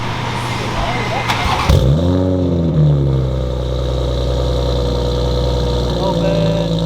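A 2020 Toyota Supra with a straight-pipe exhaust fires up loudly, flares in a sharp rev, then settles into a steady rumbling idle close by, with voices over it.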